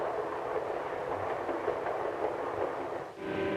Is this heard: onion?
no